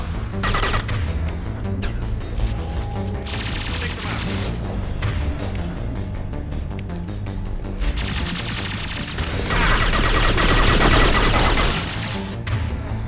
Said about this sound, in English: Firing concussive shot!